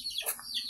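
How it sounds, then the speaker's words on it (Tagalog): A chicken gives a brief, faint cluck, a short sharp call with a higher squawk in the middle, over quiet background. "ito yung mga manok"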